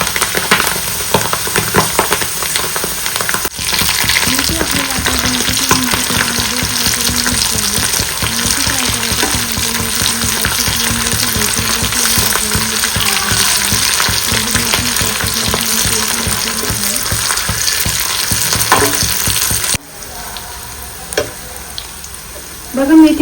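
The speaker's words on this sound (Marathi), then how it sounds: "आपल्याला आता मेथी तळायला घ्यायची आहे" Fenugreek leaves fry in oil in a pan over a medium flame, giving a steady, loud sizzle and crackle with occasional stirring scrapes. Near the end the sizzle drops away abruptly to quieter sounds.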